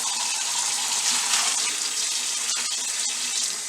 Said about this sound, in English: I'm just going to leave the cover under the water.